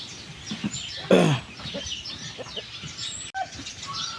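Black Australorp laying hens clucking in a breeding pen, scattered soft clucks and chirps close by with one louder squawk, no talking.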